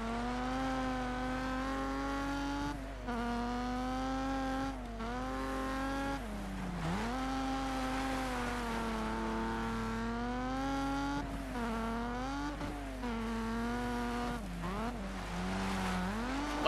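Rally car in the Colin McRae Dirt 2 video game entering a handbrake turn: a loud, close engine whine rises and falls as revs swing, with sharp dips as the car slows and turns, then pulls away.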